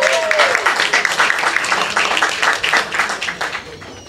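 Audience at an open mic night in a brew house gallery clapping for a performer, a steady dense round of applause close by that swells and then gradually thins out.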